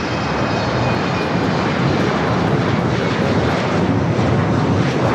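An airliner at Los Angeles International Airport bound for Paris produces a loud, steady, dense engine roar that fills the moment with no break.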